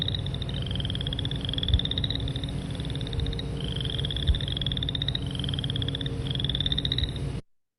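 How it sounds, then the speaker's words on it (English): A frog trills in repeated rising bursts, each lasting about a second, over a steady low background of other croaking frogs, loud and continuous. "This is a really, really common frog, especially in the prairie and parkland region."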